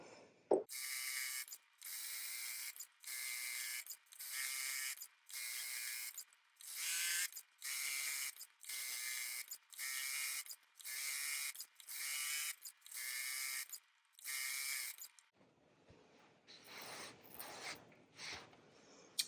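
A sewing machine quilting a fabric basket runs in repeated short bursts of rapid mechanical stitching, loud and close, with brief pauses between runs and softer handling noises at the end.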